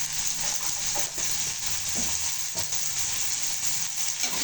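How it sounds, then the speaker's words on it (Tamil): Spices and pepper sautéing in hot oil for a Chettinad fish curry, a steady, close, continuous sizzle and crackle with faint stirring scrapes, no voices. "நல்லா வதக்கணும்."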